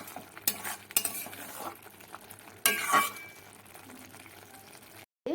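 Chicken bharta is stirred in a pan after garam masala goes in, with soft scraping and clinks of a utensil over a low simmering sizzle, a few sharper knocks standing out.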